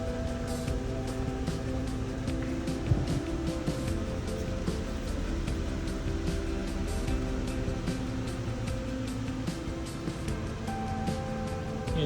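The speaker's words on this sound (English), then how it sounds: "So a bit of a rough idle starting up." A 2011 Ford Fusion Sport 3.5L V6 idles roughly just after starting, a steady, moderately close engine drone with faint uneven flutter and no talk over it.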